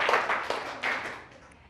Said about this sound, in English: Yes. Clap for her.